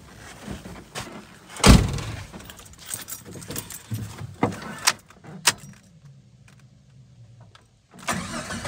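A Jeep Comanche pickup being started after its fuel tank was replaced: keys jangle, a door thuds, the starter cranks and the engine catches and runs briefly at close range, then a short quiet gap before more engine noise.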